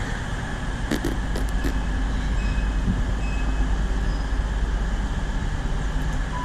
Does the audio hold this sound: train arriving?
yes